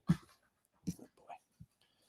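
A puppy whimpers and pants in a few short bursts, close by and fairly quiet, with pauses between the sounds.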